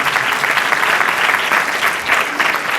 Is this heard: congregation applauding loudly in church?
yes